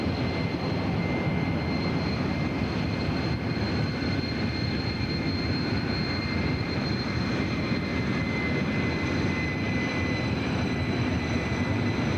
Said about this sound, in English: It's a good aerobatic airplane.